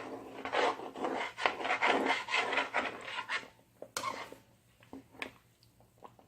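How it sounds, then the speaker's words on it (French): Thick dough being stirred and worked with a utensil while cooking African food, giving repeated close scraping and rasping strokes that are dense at first, then thin into sparse scrapes and knocks. "Vous avez vu, c'est bien mélangé."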